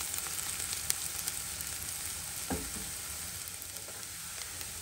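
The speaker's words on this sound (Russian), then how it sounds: "Масло разогрелось, выкладываем сюда лук. Лук нужно пожарить прям вот до мягкости" Onions sizzle steadily in hot oil, a continuous close crackle with an occasional scrape of a utensil stirring the pan.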